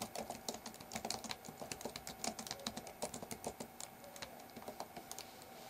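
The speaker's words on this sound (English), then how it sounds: "Now I'm going to type welcome to TechCenter." Rapid, uneven keystrokes clatter on a computer keyboard, quiet and close, as a short phrase is typed into a text box in Microsoft Paint.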